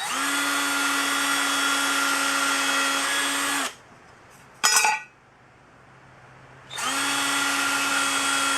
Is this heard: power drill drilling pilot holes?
yes